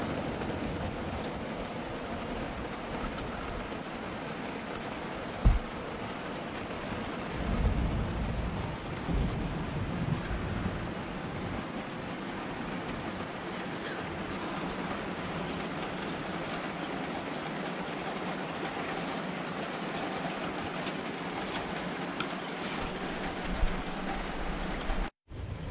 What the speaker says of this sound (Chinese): 这个外面下雨、刮风、打雷，听到的声音